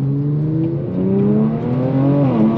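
A Kia/Hyundai car accelerating hard in first gear, the engine note climbing steadily in a smooth rising whine, close and loud, then dipping briefly near the end as the revs peak.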